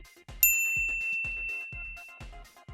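A bright, clean notification bell rings once, then leaves a long sustained metallic tone over a repeating rhythmic music bed.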